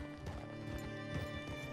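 Horse hooves clip-clop at a steady gallop in Red Dead Redemption 2, with a brief whinny, set against a constant layer of in-game music and ambience.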